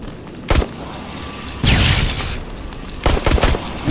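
Gunfire in the video game Terminator Resistance, loud bursts of rapid shots and booming blasts in three clusters over a constant dense background rumble, with no talking.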